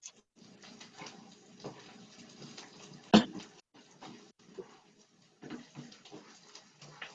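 Water is poured into a cooking pan on a hot electric stove while making shakshouka: soft, intermittent splashing and trickling with one sharp clatter midway, fairly quiet overall.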